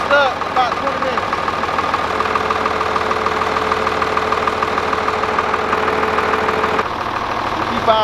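A tractor engine runs steadily as its PTO is engaged, a continuous mid-pitched drone with a faint knocking rhythm throughout, near and loud, with a steady tone joining partway and a shift near the end.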